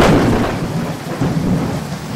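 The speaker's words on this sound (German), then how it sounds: "Ich will das Gewitter sehen." A thunderstorm with a deep, rolling peal of thunder that rumbles loudly and continuously, swelling again midway over a steady wash of rain, with no voices.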